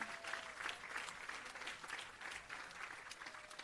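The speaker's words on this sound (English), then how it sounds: "give yourselves and our facilitators a round of applause" An audience claps steadily through a restorative justice facilitator graduation ceremony, a quiet, even wash of applause with no break.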